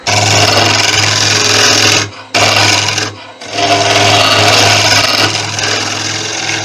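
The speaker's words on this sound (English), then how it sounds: "Alright, we'll try the 3/8 bowl gouge." A 3/8 bowl gouge cuts a spalted sycamore vase spinning on a wood lathe, producing a loud, close, continuous whirring scrape with a low lathe hum, broken by two brief pauses where the tool lifts off.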